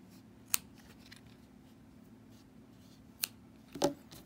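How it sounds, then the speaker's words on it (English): Scissors snipping yarn ends on a Clover pom pom maker, three crisp close cuts spaced apart in a quiet room, the last one slightly longer and crunchier. "And then I just cut off these ends right away."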